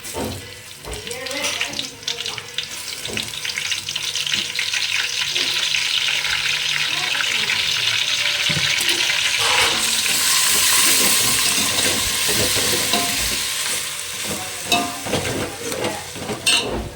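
Ginger garlic paste fries in oil for a two-kilogram chicken dum biryani, a dense, loud sizzle that swells and holds steady with faint stirring clatter and no talk.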